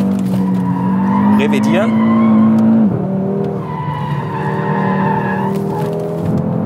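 Tires squeal on a 2017 Audi RS3 sedan being thrown sideways in a drift, a loud sustained screech and engine roar with a pitch drop midway, under someone talking.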